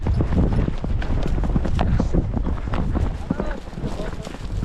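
A horse ridden while herding cattle in the Kazakh countryside clip-clops at a quick, steady pace, with close irregular hoof thuds mixed with wind buffeting the microphone and voices.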